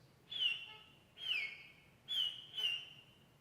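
Four high, pure whistling harp harmonics imitating bird calls glide slightly downward, each about a quarter second, spaced irregularly over near silence.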